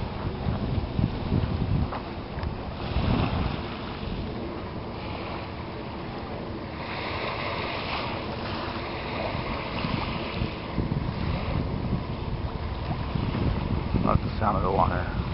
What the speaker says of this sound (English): Love the sound of the water.